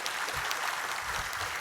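Applause in a provincial council plenary session for four council members who served as vote counters, a short, steady wash of many hands clapping with no voices over it.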